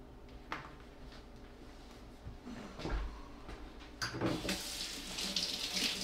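Tap water runs into a kitchen sink as vegetables are rinsed under it, a quiet steady stream with a few soft knocks and splashes that grow busier toward the end.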